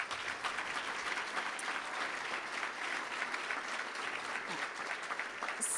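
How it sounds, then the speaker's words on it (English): Steady applause from an audience at the Montgomery County Business Hall of Fame 2019 induction ceremony, dense and even clapping that holds for several seconds with no speech over it. "Ladies and gentlemen, another round of applause."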